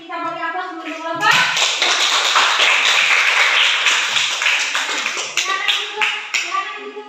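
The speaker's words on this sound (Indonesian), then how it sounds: "kita beri aplaus untuk kelompok" A classroom of students breaks into loud, dense applause for a group in class, sustained for several seconds with scattered claps and voices mixed in. A teacher talks just before and as it fades.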